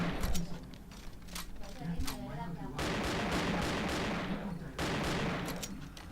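Video game gunfire bursts in rapid volleys, loud and close, with someone talking excitedly over parts of the shooting.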